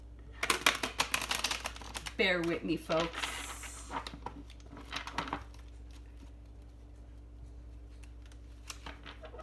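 A seldom-used deck of cards is shuffled by hand in a few bursts of riffling and flicking, close and crisp, with a person speaking over and between the shuffles.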